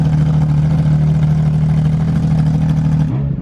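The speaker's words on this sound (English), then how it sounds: "And this car being a 1995 355, you got kind of that lumpy idle." A 1995 Ferrari F355 with a straight-piped exhaust idles with a lumpy, uneven beat, loud and close, holding a steady throb before its tone shifts at the very end.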